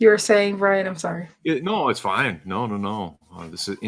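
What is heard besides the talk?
No everyday noises stand out.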